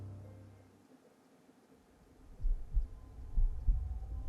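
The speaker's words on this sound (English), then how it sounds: "I can hear my heart beating." A low, rapid thumping heartbeat pulses in the second half in the video game Port of Call, coming after a brief low hum and a quiet gap.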